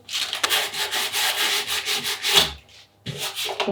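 Surfboard fin repair being sanded with 80 grit sandpaper, close and loud rough rasping strokes in a steady rhythm that stop briefly before resuming.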